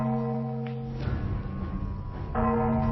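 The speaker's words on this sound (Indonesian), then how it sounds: "Apa yang terjadi sampai membunyikan lonceng aula leluhur untuk mengumpulkan orang?" An ancestral hall bell rings to call people together, a sustained, steady resonant tone with strong overtones that swells again near the end, with no voices.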